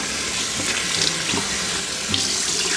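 Water runs steadily from a kitchen tap into a sink during rinsing, a close, loud, continuous splashing stream with slight fluctuations throughout.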